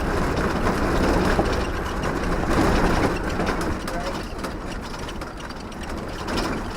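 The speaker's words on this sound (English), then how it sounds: "Despite the noisy rattling of the Land Rover that made the road seem 10 times worse" A Land Rover bounces along a dirt road with a dense, continuous rattle and clatter of loose body parts over a rumbling engine and tyre noise. It stays loud and close throughout.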